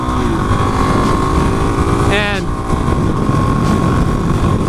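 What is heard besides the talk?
motorcycle engine while downshifting, engine braking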